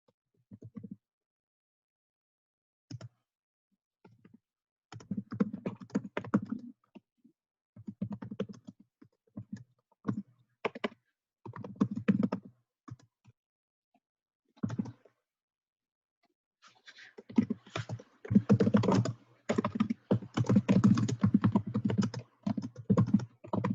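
Bursts of keystrokes on a computer keyboard, close and clear, coming in short clusters with pauses between, then a longer, denser run of steady typing toward the end.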